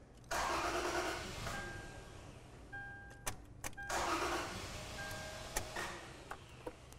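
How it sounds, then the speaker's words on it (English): A car engine cranks over, catches and fires up twice during a relative compression test, each start followed by rough running and a few sharp clicks and knocks, close and fairly loud with no talking. "Let's go ahead and see if we can get a cranking pattern now."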